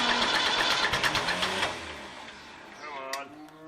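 David Brown tractor engine cranking over with a rapid mechanical chatter for about a second and a half, then dying away as voices talk nearby.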